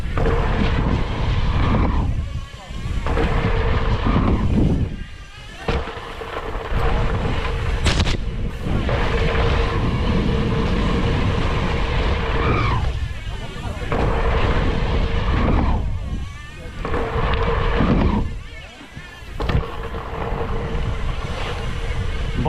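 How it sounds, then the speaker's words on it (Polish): Strong wind buffets the microphone in loud, roaring gusts that swell and briefly drop away, continuous and close throughout a freestyle riding session. "Ale wieje."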